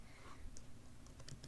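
A computer keyboard gives off a few soft, faint key clicks in a quiet room, with no talking.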